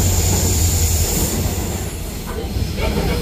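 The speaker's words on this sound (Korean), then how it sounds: "덜컹거리는 열차" Korean V-train canyon tourist train on the Baekdudaegan line near Cheoram, travelling at about 60 km/h, rattling and clattering on its rails as a continuous loud rumble with a steady hiss, heard from inside.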